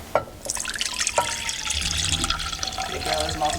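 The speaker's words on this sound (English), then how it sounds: "throw the SeaMoss that was soaking along with its water into this" Soaked sea moss and its soaking water are poured into a blender, with a steady splashing, running-water pour lasting several seconds, fairly close and moderately loud.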